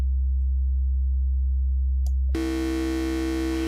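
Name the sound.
Voltage Modular Noise Terrain Oscillator mixed wave shapes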